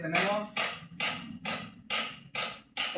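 A person hammering, heard as a run of sharp, loud, evenly spaced strikes, roughly six blows in three seconds, each with a bright ringing decay.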